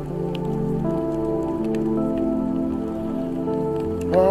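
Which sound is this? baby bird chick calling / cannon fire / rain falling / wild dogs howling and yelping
rain falling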